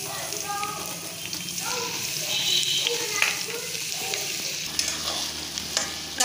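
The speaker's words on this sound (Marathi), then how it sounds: "कांदा आपला थोडासा भाजला आहे." Onion frying and being stirred in a pan for a masoor and jeera rice dish: a continuous close sizzle with scraping spoon strokes and occasional clinks, with faint speech in the background.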